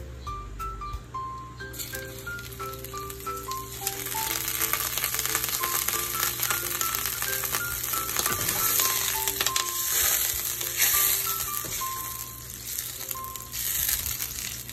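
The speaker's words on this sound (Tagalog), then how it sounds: "Kailangan painitin natin yung pan natin bago natin ilagay yung butter." Butter melting in a preheated pan for a creamy mushroom chicken dinner gives a steady, soft sizzle that rises after the first couple of seconds and runs on under background music.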